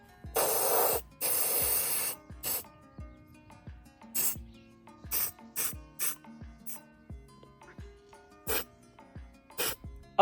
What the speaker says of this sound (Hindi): अब थोड़ा थोड़ा जहाँ पे भी है वहाँ पे ये स्प्रे यूज़ करता हूँ